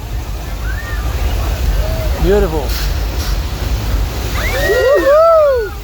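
Flash-flood water effect on the Universal Studios Hollywood tram tour: a broad, steady roar of rushing water that swells near the end, with scattered voices and squeals from riders over it.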